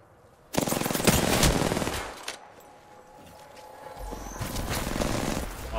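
R-99 submachine gun bursts in Apex Legends, two rapid automatic volleys separated by a quieter gap, loud and close.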